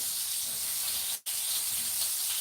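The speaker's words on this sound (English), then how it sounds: "Frying them up in this bacon grease just gives them" Meatballs fry in bacon grease with a steady, close sizzling hiss, continuous and crackly, with a brief dropout in the middle.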